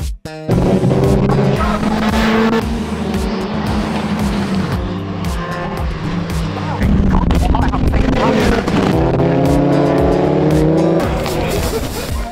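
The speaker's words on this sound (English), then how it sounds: "it's so cool to be able to film race cars" Race cars run laps on a circuit in Barcelona, their engines loud and continuous with shifting pitch as they rev and pass, layered over other sound throughout.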